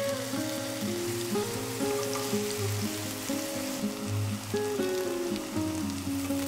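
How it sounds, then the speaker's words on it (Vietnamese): Eggplant fries in hot oil in a pan over medium heat, giving a steady crackling sizzle beneath tonal background music. "Khi dầu nóng thì mình cho cà tím vào chiên với lửa vừa."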